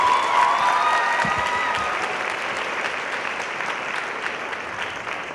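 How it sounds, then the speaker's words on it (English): Audience applause at a high school pops concert, a dense, steady wash of many hands clapping loudly and evenly throughout, with a faint musical tone lingering at the start. "Can we give her one more round of applause, please?"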